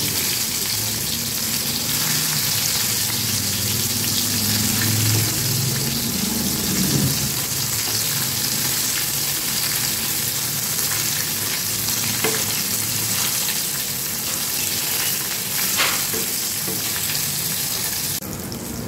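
Brinjal slices fry in oil in a pan with a dense, steady sizzle that stays loud throughout, with a few faint clicks and scrapes from turning the pieces.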